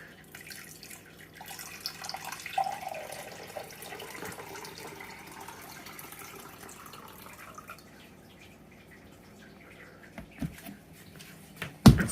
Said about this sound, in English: we're going to measure out the water that comes out of the board